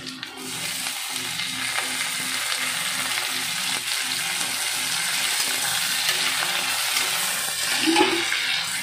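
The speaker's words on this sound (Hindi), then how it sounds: "यहाँ पर देख सकते हैं प्याज गल चुका है अच्छे से, इसमें मैं अब चिकन के डाल दे रही हूँ।" Chicken pieces tipped into softened fried onions sizzle steadily in a pan, a continuous close frying hiss with faint stirring scrapes and a brief louder burst near the end.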